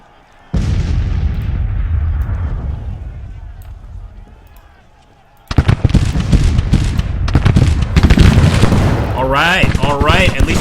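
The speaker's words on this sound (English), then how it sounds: "At least we got some nice artillery shots on them." Cannon fire from Civil War artillery in the strategy game Grand Tactician: The Civil War, a loud sustained rumble of booms followed by a denser burst of sharp shots, with a voice talking over part of it.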